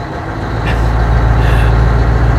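A 1996 Scania 143M T-Series truck's big diesel engine rumbling loud and close as the truck creeps around a yard in low gear, with a deep, steady drone that swells slightly partway through.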